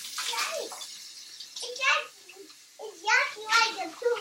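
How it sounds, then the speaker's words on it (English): Running water at a kitchen sink as things are rinsed out, a faint steady wash in the background, mostly under children's chatter. "I'm going to just run over to the sink and rinse these out real quick"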